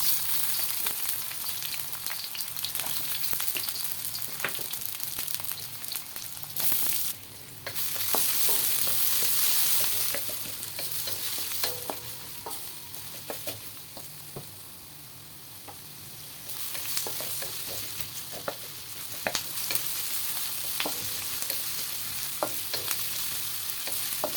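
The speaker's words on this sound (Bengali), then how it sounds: "পেঁয়াজটা ভালো করে ভাজি হোক, তারপর আমি পরে কষে ই করে যাবো।" Onions and garlic frying in a pan for a spicy Bengali-style chicken dish, a steady close sizzle lasting throughout with frequent stirring clicks and scrapes, briefly dipping quieter midway, no voices.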